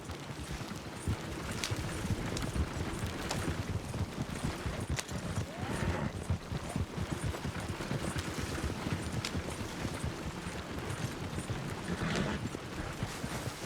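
Horse hooves clopping at a steady galloping pace in the Western open-world game Red Dead Redemption 2, a dense continuous rhythm of hoofbeats close by, with no voices over it.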